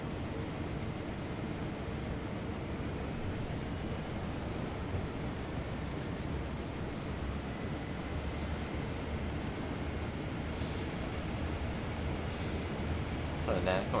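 Santa Fe SD freight train slowing under braking in Train Sim World, a steady low rumble with broadband rolling noise throughout, brief higher hiss bursts near the end, no talk.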